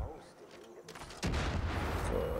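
A silo blows up in the Far Cry 5 video game: a sharp broadband blast at about 1.2 seconds, after a quiet lead-in with a softer thump, then a loud sustained rumble and debris roar that carries to the end.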